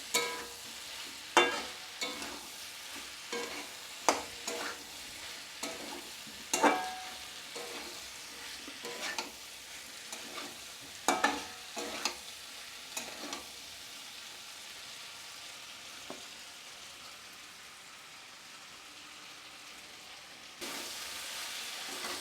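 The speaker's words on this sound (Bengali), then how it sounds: "দেখুন বন্ধুরা, আমার সবজিটা খুব ভালোভাবে কষানো হয়ে গেছে 3 থেকে 4 মিনিট।" Mixed vegetables with kasuri methi fry and sizzle in a pan, a constant soft hiss broken by repeated scraping and clattering of a spatula stirring, close but fairly quiet, with no one speaking.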